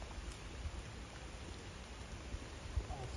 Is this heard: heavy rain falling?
yes